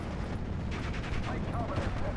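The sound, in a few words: Priest artillery shelling in Steel Division: Normandy video game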